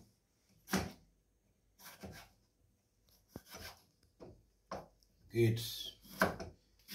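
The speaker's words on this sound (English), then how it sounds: "let's go ahead and now cut our tomatoes, because I want us to do what we call tomato puree" A knife cuts tomatoes into small pieces on a board for puree, giving sparse, separate thuds and scrapes with pauses between them. A brief spoken word is heard among the cuts.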